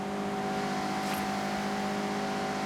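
A Mazda MX-5 in Forza Horizon holds a steady, even engine drone while cornering, a continuous tonal hum with no clear revving, interrupted once by a brief high squeal.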